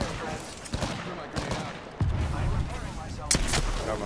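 Scattered heavy video game shots sound at mid distance, a few sharp cracks standing out over a rumbling background, with a voice speaking in between.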